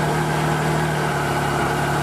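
A 2016 Triumph Trophy SE motorcycle engine idles steadily at close range, a constant low rumble with an even hum and no change in pace.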